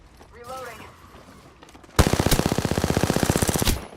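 Rapid automatic gunfire from a video game, a loud, dense burst of evenly spaced shots lasting under two seconds after a quieter stretch with a brief synthetic tone.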